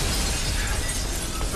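A large pane of glass shatters in the horror video game The Evil Within: a loud, dense burst of breaking glass that fills the whole short moment, with no talk over it.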